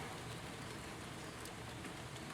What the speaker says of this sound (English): It is currently raining.